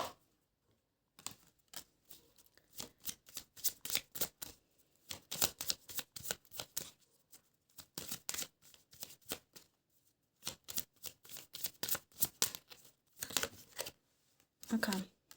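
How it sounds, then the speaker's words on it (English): A deck of tarot cards being shuffled in quick bursts of riffling, crisp flicks repeated in several runs separated by short pauses, close and fairly loud with no talk. "Let me use this deck to pull just a couple more cards out"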